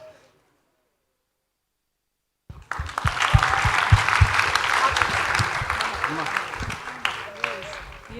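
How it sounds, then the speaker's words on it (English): An audience breaks into a round of applause after a few seconds of near silence, sustained clapping that holds steady and slowly thins toward the end. "You also deserve a round of applause"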